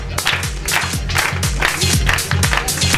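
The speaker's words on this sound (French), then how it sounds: "Applaudissez-les s'il vous plaît." A studio audience at a French radio interview applauds a team of guests: loud, close clapping in rhythmic bursts with low thumps, brief and continuous.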